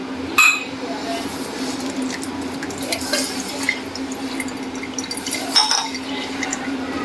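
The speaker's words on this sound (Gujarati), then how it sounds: "અહીંયા મેં આ છાણી લઈ લીધી છે આમાં આપણે ગાળી લઈશું પાલકને" Ground spinach puree being strained through a kitchen sieve gives a soft, steady patter of dripping liquid, with two brief metallic clinks against the sieve near the start and toward the end.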